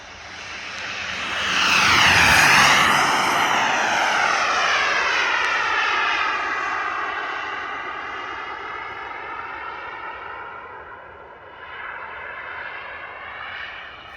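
A turbine-powered T-38 model jet, converted from an electric ducted fan, flies past at about 60% throttle, a loud rising whine that peaks early and then sweeps down in pitch as it recedes, fading but still audible to the end.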